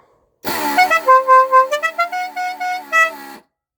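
A loud vehicle horn plays a quick multi-note tune, a dixie melody lasting about three seconds, close by and alone.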